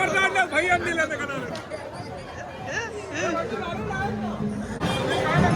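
Dense crowd chatter fills the Narali Purnima festival at Malvan, many voices babbling close and far with a few louder calls rising above the hubbub throughout.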